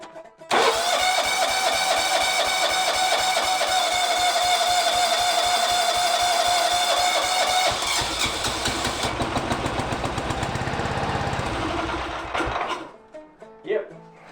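A Kawasaki FB460V small engine with a fuel problem cranks and sputters as it tries to start, a loud, rapid, uneven chugging lasting several seconds before it dies away and leaves a few brief clatters.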